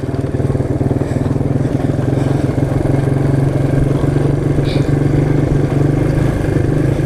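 Quad ATV engine running loud and close at a sand pit, a steady rapid pulsing drone throughout with slight revving, a voice talking over it.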